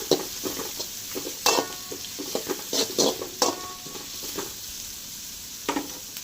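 Onions and curry leaves sizzle in oil as they are stirred, with soft scrapes and crackling bursts over a steady frying hiss, close and moderately loud, without any talk.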